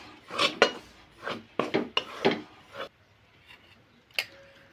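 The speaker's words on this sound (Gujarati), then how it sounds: "આપણે ધીમે તાપે આને શેકવાનું થોડીક વાર લોટ કોરો જ શેકવાનો" Flour dry-roasted in a pan over low heat for magaj laddu, giving several scraping and stirring bursts of utensil against metal with short quiet gaps, close and moderately loud with no talking.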